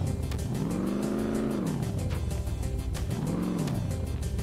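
A car engine revs up and down in two rising-and-falling swells in the game Enviro-Bear 2000, a loud buzzy drone throughout with no voices over it.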